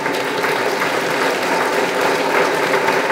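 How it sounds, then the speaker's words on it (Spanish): Audience at a meeting of fishermen's associations standing and applauding, a dense, steady burst of many hands clapping continuously for a few seconds with no voices over it. "Pongámonos de pie y aplaudamos al gobierno de la República."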